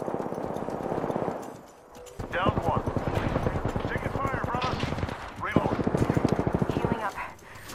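Rapid gunfire in Apex Legends from an R301 rifle with an Anvil Receiver on PS4, heard as dense bursts of sharp shots in several volleys, with a player talking over the firing.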